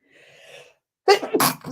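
A single sharp sneeze, close and loud, preceded by a faint breathy intake.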